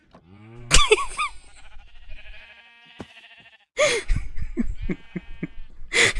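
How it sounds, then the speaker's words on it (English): Minecraft sheep bleating in the Tektopia mod, a sharp bleat followed by a wavering tail, then a pause and several more bleats in quick succession, clear and close. "And magical floating sheep. It's magical floating sheep."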